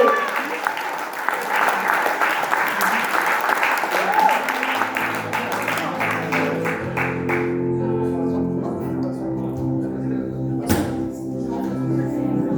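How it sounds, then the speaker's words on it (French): An audience at a live event in Fréjus applauds, a dense crowd clapping over the first half and fading away as a rap music backing with steady beats comes in. "je vous demande un bon applaudissement"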